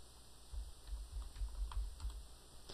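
Keys clatter on a computer keyboard as someone types a short word into a Windows PC, an uneven run of close, light taps with no voices.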